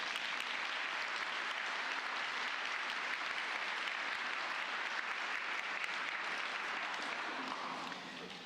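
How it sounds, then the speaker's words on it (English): A large graduation audience in Ayr Town Hall applauds steadily, a dense, even wash of many hands clapping for over eight seconds before it begins to thin at the very end. "Clap to everybody."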